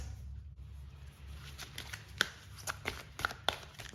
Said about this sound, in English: Let me just pull some more cards.